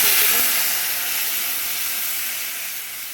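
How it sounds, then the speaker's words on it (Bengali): Mustard seeds and two split dried red chilies sizzle in hot oil for dal tempering, a close, steady, bright hiss that fades slightly over a few seconds. "এদিকে এই যে ডালে সোমবার দেবো বলে তেল গরম হয়ে গেছে, এর মধ্যে দিচ্ছি এই সর্ষে আর দুটো শুকনো লঙ্কা চিড়ে"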